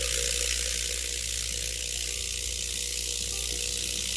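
A rock tumbler churns peach moonstone with water and media, giving a steady, dense mechanical whir and rattle that runs unbroken at a constant level, close and loud.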